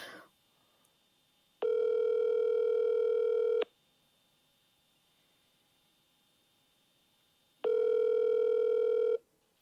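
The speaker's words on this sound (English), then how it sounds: "Let's call Merle up. See if he answers." Ringback tone on an outgoing phone call, two long steady buzzing rings about two seconds each, separated by quiet gaps, clear and close with no voices.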